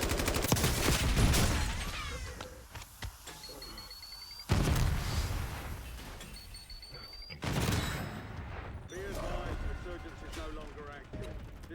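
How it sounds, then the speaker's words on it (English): Bursts of automatic gunfire in the Warzone 2.0 game on Rebirth Island, loud and close, with several sustained volleys broken by short gaps and scattered mechanical clicks. "He just freaking shot nonstop."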